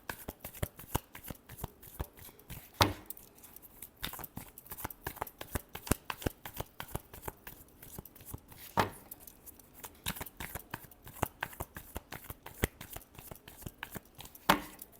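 Tarot cards being shuffled by hand in rapid, steady riffling bursts, crisp papery flutters repeating close up with no voice over them.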